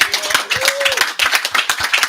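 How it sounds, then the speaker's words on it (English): People clap at an event in a loose, uneven rhythm of distinct nearby claps rather than a dense roar, with a voice briefly heard over them. "So, round of applause."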